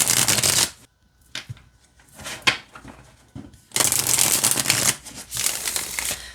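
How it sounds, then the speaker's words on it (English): Skyrim-themed tarot cards are riffled and shuffled in two long bursts of dense crisp flutter, separated by a quieter stretch of a few soft taps and card handling. "All right, let's see how it shuffles."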